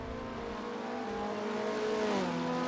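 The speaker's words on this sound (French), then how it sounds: "vous pouvez me dire si pour vous cette Alpine sonne plutôt correctement" Engine of an Alpine A110 GT4 race car in the Assetto Corsa racing game, a steady loud drone climbing in pitch as it revs, then easing briefly around a gear change, alone without any talk.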